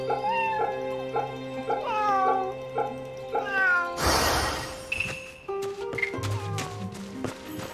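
Cats in the video game Fate/Samurai Remnant meow repeatedly in short, rising and falling calls over tonal game music, with a burst of noise midway and sparse chimes after.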